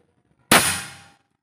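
A single sharp, close shot from a Bocap Predator 500cc PCP air rifle, about 1000 fps, with a metallic ring that decays over about half a second, set against near silence.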